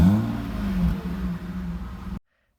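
A 1994 BMW 325i Cabriolet with an aftermarket exhaust revs up close, giving a deep, throaty engine note that swells and settles before cutting off abruptly.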